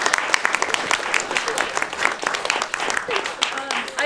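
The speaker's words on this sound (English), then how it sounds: "applause to these amazing actors up here on the stage" Theatre audience applauds the stage actors after a performance of Troilus and Cressida, with steady, lively clapping filling the whole span, sharp individual claps standing out over the dense wash.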